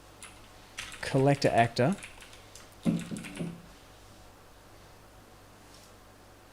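Quick keystrokes on a computer keyboard, a loose patter of clicks mixed in with a man's speech, fading to a quiet hum as the typing stops.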